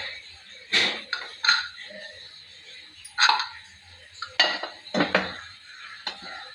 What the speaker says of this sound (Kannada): ಕುಕ್ಕರ್ ಓಪನ್ ಮಾಡ್ತಾ ಇದ್ದೀನಿ ಈಗ